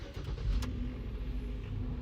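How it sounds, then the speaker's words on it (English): A car engine running after start-up, a close, steady low rumble with a slight rev at the beginning, heard alone without talk. "now we're gonna go ahead and start the car"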